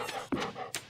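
A dog in the video game Stardew Valley pants in short, quick breathy bursts, close and fairly quiet, with a brief squeaky whimper in the middle.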